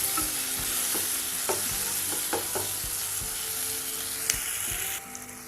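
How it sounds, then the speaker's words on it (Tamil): Masala for a small-onion kara kulambu sautéed in a pan: a steady bed of frying sizzle with intermittent soft scrapes and knocks of stirring, close and moderately loud, no talking. "ஒரு நிமிஷம் நல்லா வதக்கி விடுங்க."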